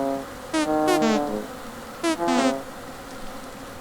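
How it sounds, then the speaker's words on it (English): Bees buzz and sting a player character in the survival game Vintage Story, heard as a few short, sharp, pitched bursts in two clusters over a low steady background. "The sound of the duding is my character being upset because they're being stung by bees"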